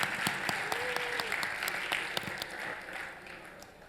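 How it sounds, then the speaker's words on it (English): An audience at a developer conference competition claps for a returning champion, a short burst of moderately loud applause with a faint voice underneath, gradually thinning out. "give Megan a big round of applause, our reigning Live Build Challenge champion."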